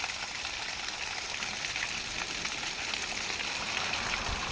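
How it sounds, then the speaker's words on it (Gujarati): A small waterfall spills down through the Ratanmahal hills, giving a continuous soft rush of falling water at a distance, even and unbroken, with no one speaking. "ખૂબ સુંદર ધોધ છે."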